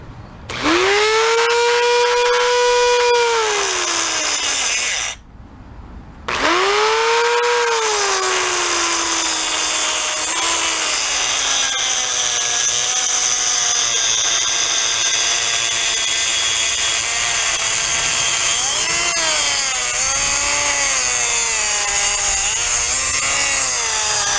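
A loud power tool cuts through a Chevy Volt 48V 50Ah lithium battery module, a whining motor with steady rasping grind that drops out briefly near five seconds, then runs continuously close up with shifting pitch and no talk.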